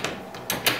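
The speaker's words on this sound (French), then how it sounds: "Un tiroir de thé." A kitchen drawer full of tea is pulled open in an apartment, giving a few short sliding and rattling bursts, the last two louder and close, over a quiet room.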